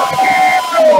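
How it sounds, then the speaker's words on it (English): A live game show crowd cheers and shouts for a contestant, a dense, loud wall of voices sustained throughout with a brief dip near the middle. "So, let's give it up for Disco Dude!"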